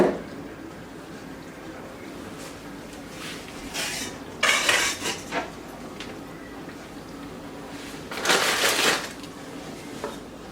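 Kale being stirred into a homestead soup pot, with intermittent bursts of metal utensil scraping and clanking against the pot between quieter stretches of low simmering.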